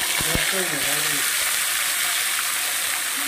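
Ground spice paste hitting hot oil in a pan for a Bengali fish curry, giving a loud, steady sizzle that carries through the whole clip after a few brief tonal clinks at the start.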